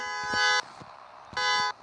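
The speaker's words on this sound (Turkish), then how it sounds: "Korna çaldık adama." Two short, loud electronic horn blasts with a buzzy, synthetic tone, separated by a brief pause, like a car horn honking in a game.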